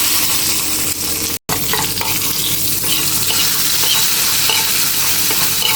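A sizzling tempering with asafoetida is poured into spinach-stem sambar, giving a loud, close, continuous crackling hiss broken by one brief silent gap.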